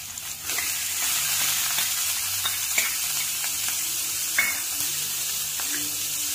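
Onion and green chili frying in a little soybean oil, a continuous close sizzle with occasional clinks of a spoon against the pan, no speech over it.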